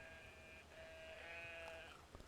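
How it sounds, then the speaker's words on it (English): Sheep in the video game Brothers: A Tale of Two Sons give a couple of quiet, wavering bleats close by, drawn out and alone over a low ambient backdrop. "Pick up the sheep."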